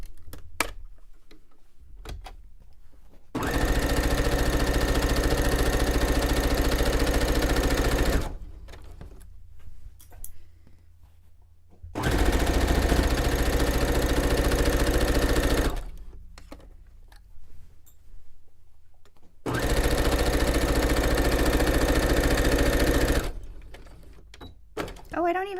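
A home sewing machine runs three long, steady bursts of droning stitching along a straight seam while a men's button-up shirt is turned into a pillowcase, each run several seconds long and separated by quiet pauses and brief talk.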